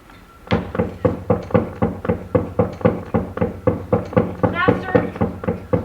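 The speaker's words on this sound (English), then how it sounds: "knock the door hard" Loud, heavy knocks pound on a door during a stage performance of The Comedy of Errors, about fifteen evenly spaced blows in a steady rhythm, with a voice briefly cutting in near the end.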